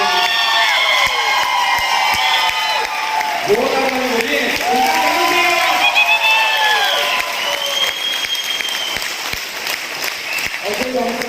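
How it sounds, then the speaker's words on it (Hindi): A large crowd applauds loudly and continuously, with scattered cheers and whoops rising over the clapping throughout. "सबसे पहले हमारे सबके महागुरु श्री हर्षवर्धन जैन साहब के लिए जोरदार तालियां"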